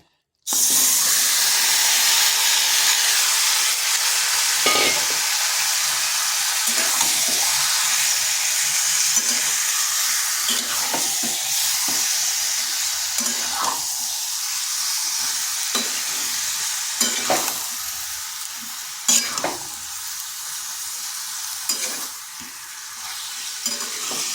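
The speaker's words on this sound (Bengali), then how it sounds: "দিয়ে দিচ্ছি চিকেনটা" Chicken frying in a wok sizzles and hisses loudly and steadily throughout, with repeated scraping and stirring knocks from a utensil against the pan.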